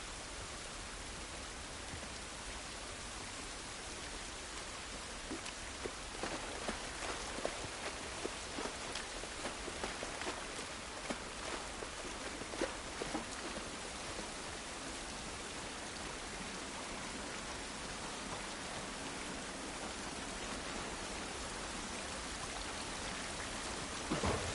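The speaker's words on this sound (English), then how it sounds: "This rain ain't gonna do us any good." Rain falls steadily in the video game The Last of Us Part 1, a dense, even hiss of drops on surfaces lasting throughout, moderately loud with no voices.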